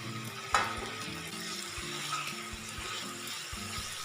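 Fried chapila fish go into a pan of water lily stems simmering with a little water. A soft bump is followed by steady, moderate sizzling and bubbling that continues to the end, with no one talking.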